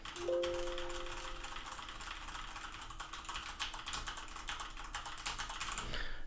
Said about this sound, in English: this is what the keyboard would sound like.